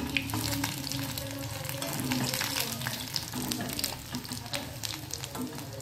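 Stuffed green chillies fry in hot oil with a steady, close sizzle and soft crackle that runs without a break, plus a few faint stirring scrapes.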